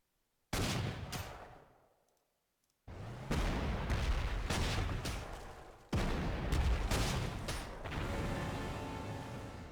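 Heavy game gunfire and explosions in a Panzer Corps 2 attack on an AA gun, three loud booming bursts with crackling barrages that each ring out and fade, separated by short gaps.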